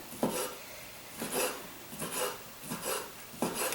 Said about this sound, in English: So we're just going to continue to chop these up.